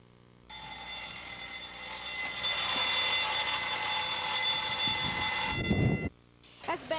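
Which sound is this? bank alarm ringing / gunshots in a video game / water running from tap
bank alarm ringing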